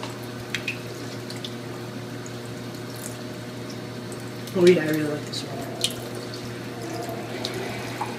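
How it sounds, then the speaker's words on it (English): Water from a school hallway drinking fountain runs in a steady, close trickle, with a brief splash partway through, while a student talks over the flow. "I'm here to test out the same water fountain."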